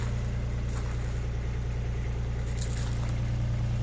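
A Kubota RX202 mini excavator's engine runs at a steady idle, a close, loud, continuous low hum with a throbbing mechanical rhythm and no speech.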